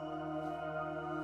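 A synth soundscape playing the Pattern Sync preset with no BEAM effects, a steady sustained tonal drone with layered harmonics, even and quiet throughout with no talk.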